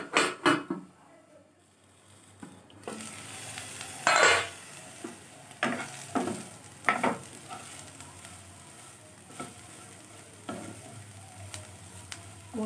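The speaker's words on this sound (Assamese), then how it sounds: "এইখিনি আৰু অলপ টাইম ভাজিব লাগিব।" Bottle gourd and soybean curry sizzles and fries in a pan, with a steady low crackle broken by repeated scraping stirs that come in short bursts, close and moderately loud, with no talking.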